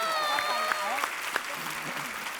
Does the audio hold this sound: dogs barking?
no